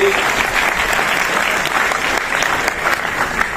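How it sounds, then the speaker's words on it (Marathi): Loud, dense applause from a hall audience at a formal welcome ceremony honouring guests, sustained and even throughout, with a voice faintly audible beneath the clapping. "सर्व एकदा जोरदार टाळ्या झाल्या पाहिजेत आपल्या सर्व अतिथींसाठी।"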